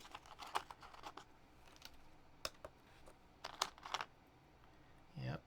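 Typing on a mechanical keyboard with GMK Extended 2048 double-shot keycaps, irregular clusters of crisp close keystrokes at low volume, ending with a short rustle.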